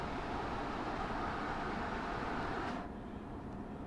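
A Siemens ALP-46 electric locomotive of NJ Transit, modeled on the German class 101, hums and rumbles steadily in a train simulator game, a constant broad rolling drone that drops slightly near the end.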